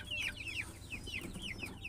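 Brahma chickens in a backyard giving quick, high clucks and chirping calls in a rapid run, close and clear over a low ambient rumble.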